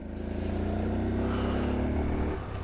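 A 2022 Honda Super Cub C125 motorcycle pulls away close by, its small engine droning steadily and rising as it shifts into second gear without a clutch.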